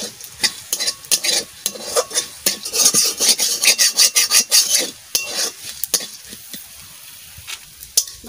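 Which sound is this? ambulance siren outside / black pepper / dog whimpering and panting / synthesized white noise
black pepper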